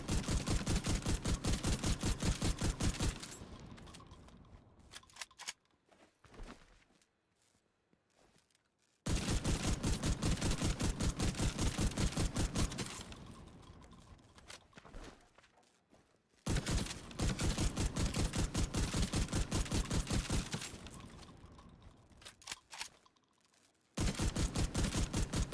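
Sustained automatic gunfire in The Division 2 on the streets of Brooklyn, long rapid bursts of loud shots broken by short pauses, with quieter gaps between volleys.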